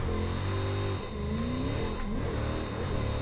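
An 800-horsepower car's engine revs hard in a racing video game on a mountain skid pad and flow track, giving a steady loud drone that rises and falls in pitch with a brief dip near the start.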